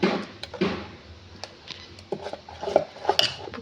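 Carrot pappadam batter with asafoetida powder being mixed in a vessel, giving scattered clinks and scraping strokes of a spoon against the pot, fairly close, in irregular bursts with no talking.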